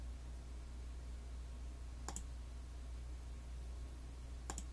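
Two faint, quick double-clicks of a computer mouse, spaced a couple of seconds apart, over a low steady background hum.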